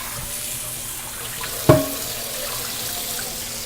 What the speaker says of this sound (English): literally wash and make sure that all the soap, even on the underside, is removed